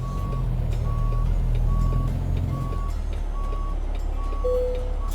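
A heavy hauler truck in American Truck Simulator backs up with steady, evenly spaced reversing beeps over a loud, constant diesel engine rumble.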